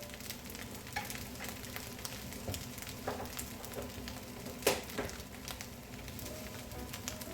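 Kimchi fried rice with a half spoon of chili powder stir-fried in a pan, a steady close sizzle with scraping stirs and a few sharper clacks of the spatula, no talking.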